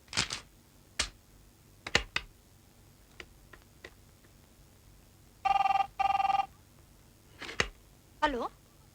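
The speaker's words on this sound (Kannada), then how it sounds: "ಆ ದೇವರಾಜಪ್ಪನ ಮನೆಗೆ ಒಂದು ಫೋನ್ ಹಚ್ಚಲ." Telephone ringing while a call is placed to a home, two short bursts of ring tone in the middle, surrounded by sparse clicks and brief voices.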